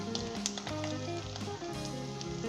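Beef qeema frying in a pot with browned onions just added sizzles steadily and softly nearby, with a few brief crackles and a low kitchen hum under it, no voices.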